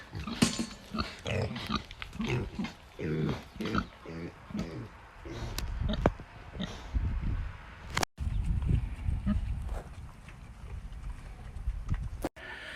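Pigs on a homestead grunt and oink at feeding time, with a voice calling and talking among them and some wind in the background.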